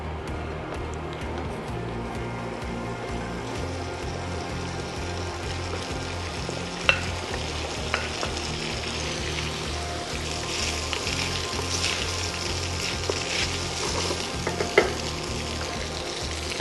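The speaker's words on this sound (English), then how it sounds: "really hot wok so I can hit it with the soy sauce around the edges to bring in that umami when soy sauces hit the pan" Minced tofu and oyster mushroom fry in a very hot wok with a loud, steady sizzle throughout, broken by a few sharp scrapes and clinks of stirring.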